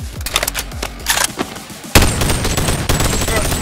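Gunshots ring out in the VR game Boneworks, first a quick run of sharp cracks, then a heavy burst of booming fire that continues densely to the end.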